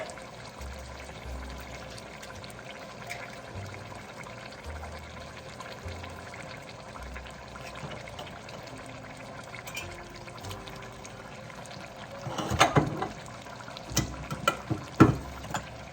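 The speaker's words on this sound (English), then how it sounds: "I am going to drain my beans." Canned beans are drained into a sink, a low steady trickle of liquid pouring through the can for most of the stretch, then louder splashing and clattering bursts near the end.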